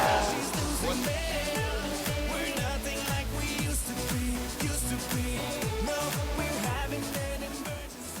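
Stock cars restarting a race at the Granby track, a pack of loud engines revving in repeated rising pulses as they accelerate, steady and close throughout with no voices.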